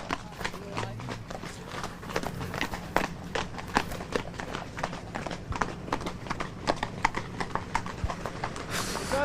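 Hunt horses on a road, their hooves clip-clopping in a steady, continuous rhythm that sounds fairly close, with faint background noise and no clear talk.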